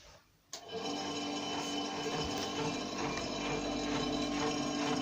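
An electric malt mill for a microbrewery starts up after a short quiet moment and runs with a steady mechanical whir and rattling grind.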